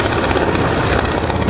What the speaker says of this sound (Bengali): আর্মি ক্যাম্পের ওখানে একটা হেলিকপ্টার দেখতে পাই।